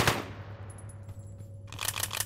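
Rapid automatic gunfire from a shooter video game, bursts of quick repeating shots at the start and again near the end, moderately loud and without talk over it.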